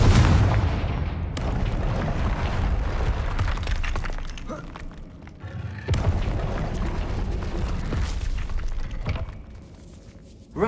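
Confringo fire-blast spell in Hogwarts Legacy: two loud, booming blasts with a shattering crack at onset, each followed by rumbling, crackling debris that gradually fades, with the second burst hitting about six seconds after the first.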